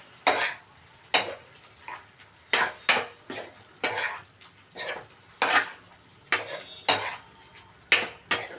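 A metal spoon stirs prawn curry with spices in a pan, scraping and clinking in a steady series of close, sharp strokes about once a second, with a faint sizzle underneath.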